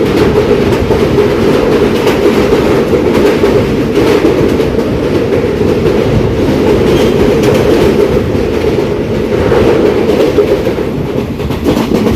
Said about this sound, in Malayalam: പയ്യന്നൂർ റെയിൽവേ സ്റ്റേഷനിലേക്ക് എത്തിരിക്കുകയാണ് ട്രെയിൻ.